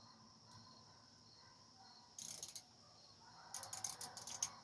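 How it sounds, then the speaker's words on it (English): Small hand ratchet cranking in two quick bursts of sharp clicking, one short run then a longer series of rapid clicks, close and fairly faint against a quiet background hum. "This little ratchet, see, now it's cranking fine."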